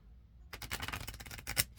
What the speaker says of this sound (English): let me try shuffling the cards like 3 times.